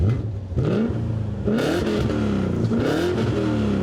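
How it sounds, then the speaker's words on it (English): A BMW E39 M5's V8 engine is revved repeatedly in loud, close bursts, each rising and falling in pitch, three or four swells in quick succession. "Oh, old school V8."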